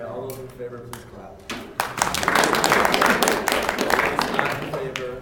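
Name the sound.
people clapping in favor of a vote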